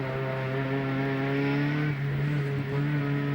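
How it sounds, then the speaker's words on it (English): A turbocharged 16-valve Ford Sierra Cosworth touring car racing at Calder Park in 1987 gives off a steady, sustained engine drone with a smooth, slightly wispy tone, holding near and loud, with a brief shift in pitch partway through. "Sierra Cosworth makes that wispy noise from the 16-valve engine with the turbocharger tagged onto it."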